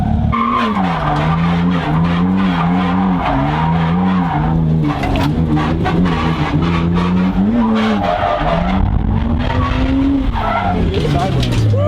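A BMW E92 drift car slides sideways at a drift event, its tires squealing in long wavering tones over engine roar, with people talking nearby throughout.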